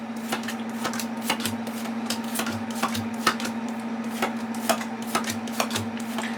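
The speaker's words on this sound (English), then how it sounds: "Maybe you don't want to watch me shuffle all these cards." Tarot cards being shuffled by hand, a steady run of soft riffling and tapping clicks up close, with a constant low hum underneath and no talking.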